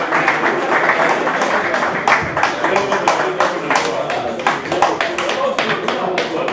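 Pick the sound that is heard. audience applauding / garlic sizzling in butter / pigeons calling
audience applauding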